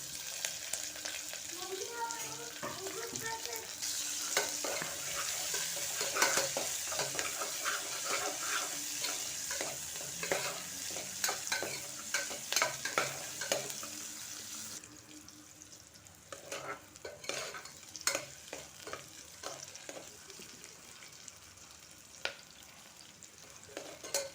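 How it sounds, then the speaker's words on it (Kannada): Onions and curry leaves fry in a pan at home, a steady close sizzle crackling throughout with repeated scraping clicks of stirring, plus some watery splashing; no talking. "ಈರುಳ್ಳಿ ಕರ್ದು ಸೊಪ್ಪು ಹಾಕ್ತಿದ್ದೀನಿ ಈರುಳ್ಳಿ ಚೆನ್ನಾಗಿ ಫ್ರೈ ಆಗಬೇಕು"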